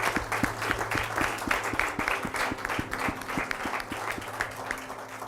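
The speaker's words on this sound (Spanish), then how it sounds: "Can you give up an applause?" Church congregation applause during a bilingual sermon, dense clapping over a steady low tonal hum with regular rhythmic thumps, moderately loud throughout.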